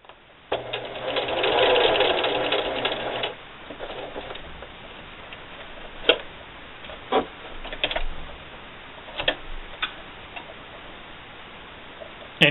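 A home sewing machine stitches a bandana bib in a steady, moderately loud run of about three seconds, followed by scattered clicks and taps of fabric handling and needle positioning.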